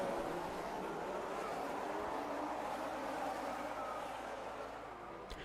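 A field of F1 cars launching off the grid at Suzuka, Japan, in the F1 22 game, a loud and steady wall of engine roar that holds and fades slightly at the end, with a commentator's voice faint beneath it.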